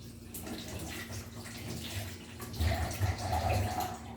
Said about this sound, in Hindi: थोड़ा सा हाथ में धो लूँ